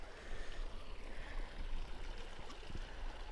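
The Firehole River in Yellowstone flows with steady rushing water at moderate distance, a broad, even wash of sound with faint trickles, amid steam and high cliffs.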